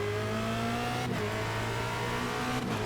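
A Formula Renault race car in the iRacing sim at Spa-Francorchamps hums with a steady engine drone, broken by two brief throttle blips; fairly quiet, with no talking.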